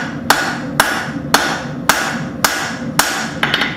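Hammer blows forge the D-guard for a Bowie knife on hot steel, six sharp evenly spaced strikes about half a second apart, close and loud with ringing decay, and a quicker flurry of lighter taps at the end.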